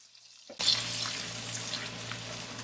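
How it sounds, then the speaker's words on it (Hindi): Two ground tomatoes hit a quarter cup of hot oil with sautéed garlic for chicken shashlik gravy. A sudden loud sizzle bursts in after a moment of silence and settles into a steady frying hiss over a low hum, with no talking. "2 टमाटर को पीस लें और इसके अंदर ऐड कर दें"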